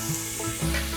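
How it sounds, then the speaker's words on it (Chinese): Carrots stir-fry in hot oil in a wok with celery, giving a short, dense sizzle and a stirring scrape. The sound is close and steady, with no voice over it. "现在放入红萝卜"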